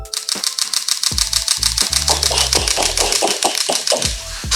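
A Lumix S5 II camera shutter fires in burst (continuous) mode, producing a fast, even train of sharp mechanical clicks. The clicks are close and loud and continue without a break, with no voices.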